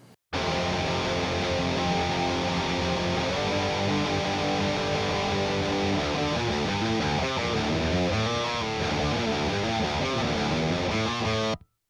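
Dense, distorted electric guitars played through an amp simulator, plugged straight in, playing continuously for several seconds, thick and saturated with a dry, direct-input character; no talking.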